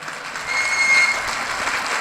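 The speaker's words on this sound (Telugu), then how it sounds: "ఒక్కసారి పెద్దగా చప్పట్లతో మీ యొక్క" Crowd applause at a Congress political meeting in Mahabubnagar, a steady broadband wash of clapping lasting about two seconds, moderately loud and continuous, swelling slightly midway with no talk over it.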